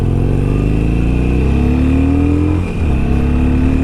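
Harley-Davidson Sportster 883 motorcycle pulling onto a road, engine revving up through rising pitch, a brief dip at a gear change, then pulling again; loud, close and continuous.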